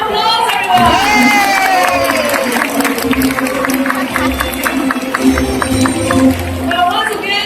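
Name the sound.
audience applause and cheering at bird show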